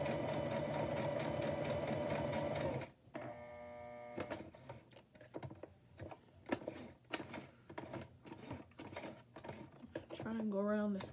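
A sewing machine runs in a steady whirring burst while stitching a zigzag, then stops, followed by short stop-start bursts and handling noises.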